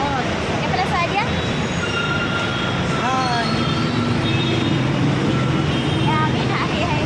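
A metro train rumbles through a station in Hyderabad, with steady mechanical noise, brief wheel squeals and high whining tones throughout, while voices murmur in the background.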